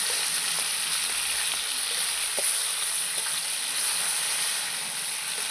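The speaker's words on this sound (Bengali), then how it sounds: "এগুলো ভাজা হতে থাক।" Pieces of tilapia fish fry in hot oil, making a steady, even sizzle with a few soft clicks and pops throughout, no voices.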